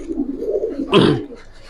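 Giribaz pigeons of the Palla line coo in low, rolling murmurs, close by and steady, broken by a short, louder rustling burst partway through.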